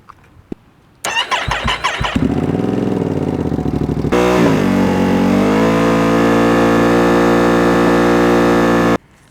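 A 2025 motorcycle fitted with a Termignoni full exhaust cranks and fires up, then blips its throttle in sharp rising barks before settling into a loud, sustained high rev near 7,000 RPM, close and powerful, cutting off abruptly.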